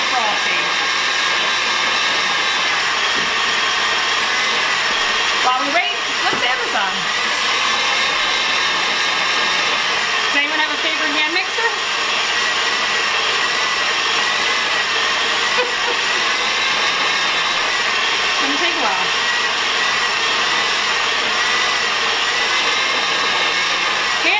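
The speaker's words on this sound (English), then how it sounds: "So now for the noise, we mix it." A steady, loud electric mixer motor runs continuously with a high whine, with brief changes in pitch as it mixes baked Alaska ingredients.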